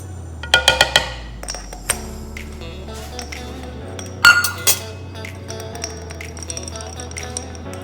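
A metal teaspoon clinks repeatedly against a glass bowl while spice goes into pumpkin spice cake batter, giving a quick cluster of bright taps, then scattered lighter pings and a second burst midway, with a voice talking in between.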